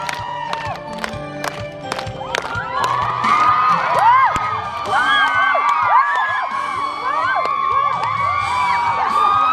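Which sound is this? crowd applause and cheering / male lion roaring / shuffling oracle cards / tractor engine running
crowd applause and cheering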